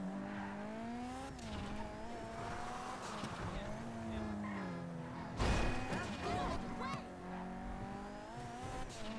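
Car driving in GTA, a steady engine drone with shifting pitch and a brief louder burst like a skid midway, with a person talking over it throughout.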